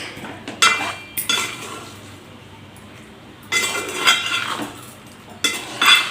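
Amla pickle is mixed into oil in a steel bowl. A spoon scrapes and clinks against the metal in a few separate bursts of stirring, loud and close, with quiet pauses between them.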